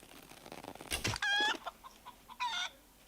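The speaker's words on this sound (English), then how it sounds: "Well, we found a chicken." A chicken in the survival video game Scum clucks and squawks in a few short, sharp bursts, a harsh rising call followed by a couple of brief clucks, fairly near and clear against a quiet background.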